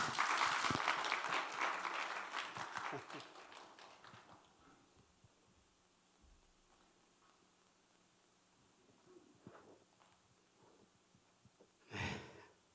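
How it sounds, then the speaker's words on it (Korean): A church congregation at a revival service claps in welcome for a pastor, a full burst of applause for about four seconds that fades into near silence, followed by faint scattered sounds and a short noisy burst later. "박수로 환영하겠습니다"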